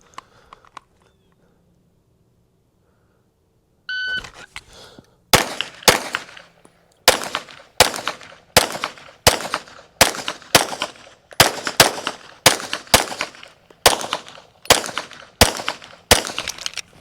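Gunshots fired one after another at a shooting range, a string of about a dozen sharp loud cracks at a steady, slightly uneven pace after a short quiet lead-in.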